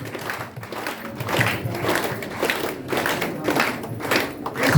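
Loud, vigorous clapping from an audience in a hall honouring a guest, irregular and fairly close, with scattered individual claps standing out and faint voices underneath.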